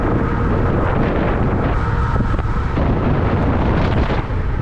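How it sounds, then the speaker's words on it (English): Strong headwind buffeting the microphone while riding an ebike, a loud, constant roaring rush with gusty swells and no speech over it. "I'm getting a lot of headwind"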